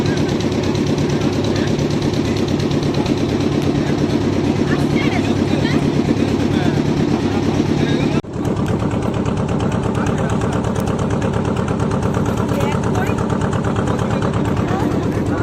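A boat's engine drones steadily and loudly up close as the boat returns to shore on a river trip at Taki. The drone is a continuous throbbing hum with a brief dip partway through.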